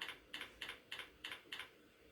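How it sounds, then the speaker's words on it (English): Fingers strike a computer keyboard while entering Logo commands, giving six evenly spaced, crisp key clicks at a quick, regular rhythm, close and fairly quiet, with no talking. "type PR logo commands and press enter"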